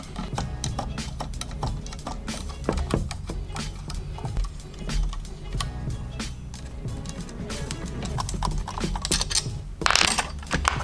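Ratchet clicking in quick, uneven bursts as bolts come off a moldy steering wheel on a quick release hub of a 1999 Subaru Impreza, close and steady with metallic mechanism noise throughout.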